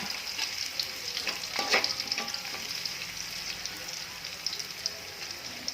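Vegetables frying in a pan, stirred now and then, giving a soft, steady sizzle and crackle with a few scraping strokes of a utensil, close but fairly quiet, and no one speaking.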